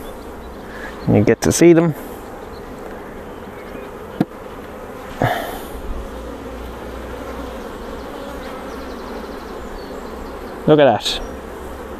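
Honey bees from an open hive colony busy with queen rearing, a steady buzzing drone throughout with a few louder close passes, while a person talks over it at times.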